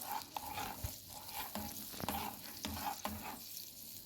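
Honey is stirred into melting butter in a pan over heat, a spoon scraping in steady, repeated strokes amid a soft sizzle, close and quiet with no talking.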